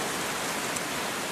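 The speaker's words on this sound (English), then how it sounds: "it's getting quite windy. We've already had about 70 millimetres of rain since 9 AM." Steady wind and heavy rain in Blackheath, a dense, even hiss of rainfall with a broad rushing wash filling the whole short stretch.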